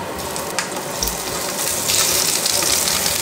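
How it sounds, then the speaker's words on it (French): Chicken legs go into hot sunflower oil and set off a steady, loud, close sizzle with a hissing, gushing texture that continues unbroken for a few seconds. "L'huile est chaude, je vais alors disposer les cuisses."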